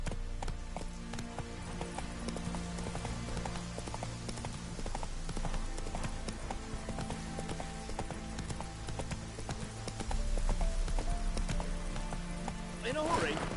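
A horse gallops in the video game Witcher 3, with rapid steady hoofbeats under rain and rustling ambience that continue throughout, growing louder near the end.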